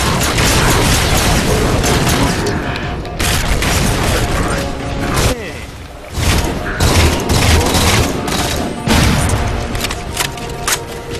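Loud, dense bursts of rapid gunfire and booming explosions from a video game, continuous and chaotic with brief lulls, mechanical clatter throughout.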